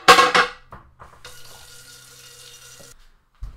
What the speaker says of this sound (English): Take the skillet. I'm gonna wash it off.